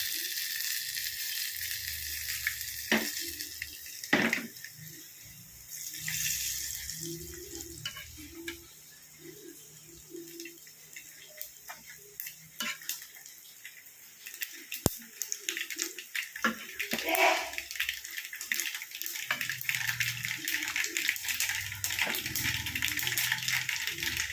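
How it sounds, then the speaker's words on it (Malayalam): Mustard seeds splutter and crackle in hot oil in a pan while making jackfruit biryani, scattered pops and sizzling that grow busier near the end, with some quiet stretches and faint stirring. "കടുക് അങ്ങ് ഇട്ട് കൊടുക്കുക"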